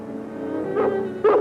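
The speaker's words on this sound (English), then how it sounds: "And that sounds like King's Bark" A dog gives low whimpering yips and two short bark-like bursts over a steady tonal background, fairly close and loud.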